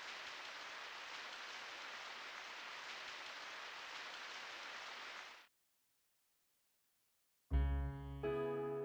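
Steady, dense rainfall in the video game SAO: Hollow Fragment, a continuous hiss that cuts off abruptly, followed by silence and then a burst of tonal game sound.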